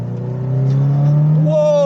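A Subaru Impreza WRX STi Widetrack Spec C Type RA engine revs up on a twisty road, a loud rising drone climbing in pitch as the car accelerates close by.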